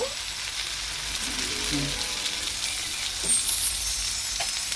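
Asafoetida (hing) sizzling in hot oil while cooking a fish egg curry, a steady close frying hiss with a few faint clinks and stirring sounds.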